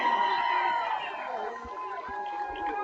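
Crowd noise from the stands at an OHSAA Division VI regional playoff high school football game, Barnesville Shamrocks against Coal Grove Hornets, a steady murmur and cheer running under continuous play-by-play commentary.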